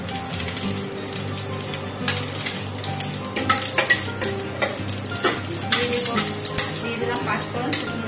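Panch phoron and dried red chillies tempering in hot mustard oil, a busy sizzle with repeated metal spoon scrapes and clinks against the pan, close and continuous.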